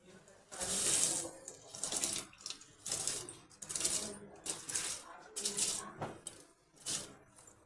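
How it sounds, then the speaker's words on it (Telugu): Raw rice is tipped into a pot of water for biryani, giving repeated bursts of rattling, splashy grain pours in short rhythmic pulses, fairly close. "రైస్ కూడా వేసేయాలి."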